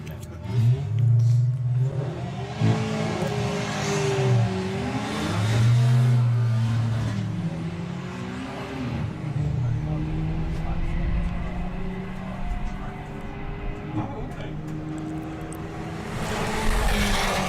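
Drag racing at Santa Pod with an Audi TT and another car running together, engines droning and revving loudly throughout with shifting pitch, while a commentator talks over the whole run.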